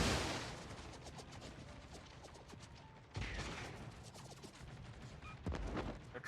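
Naval gunfire in World of Warships, an aircraft carrier battle with the British Tier VIII carrier HMS Implacable, comes as distant booming salvos and mechanical rumble, with a louder burst partway through and more shots toward the end.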